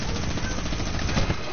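Minigun firing in an online shooter game, a dense, loud, continuous roar of rapid shots filling the whole short burst.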